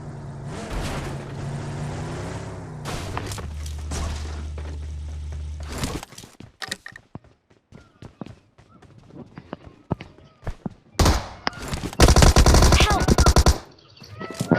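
Bursts of automatic gunfire in the mobile battle royale game BGMI/PUBG, loud cracking volleys early on, then scattered single shots, with a heavy sustained barrage near the end; players talk over parts of the action.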